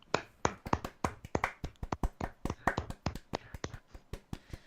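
A round of applause on a gaming podcast: quick, irregular hand claps from a few people, crisp and close, for nearly five seconds with no talking.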